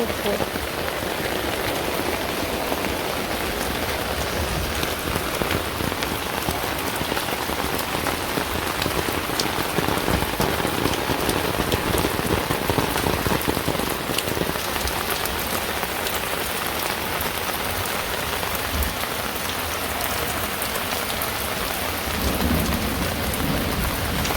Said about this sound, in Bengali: এখন বৃষ্টি রয়েছে